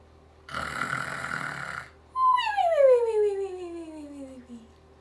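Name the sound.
storyteller imitating a bear snoring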